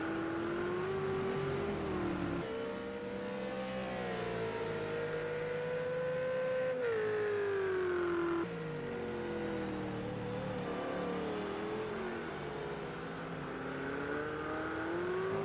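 GT3 race cars, a Ferrari and McLarens, in a racing video game at Zhuhai International Circuit, engines droning and rising in pitch through the gears, a continuous loud whine that swells and drops between shifts, with no talking.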